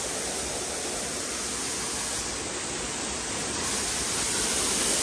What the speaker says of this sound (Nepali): पानी ठुलो आइरहेको छ गाइस